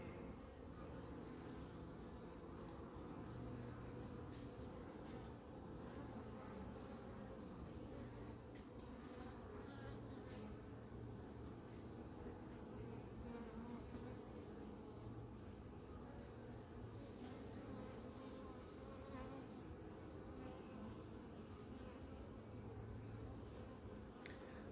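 Honey bees buzzing around a hive after a captured swarm, as a steady, dense hum of many insects close by for the whole stretch, with no talking.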